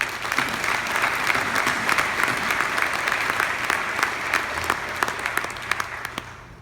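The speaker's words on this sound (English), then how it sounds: "give another round of applause to all those family and friends" Sustained applause from a sizable audience at a Georgia Tech Scheller School of Business address, steady and full throughout with scattered sharp claps standing out.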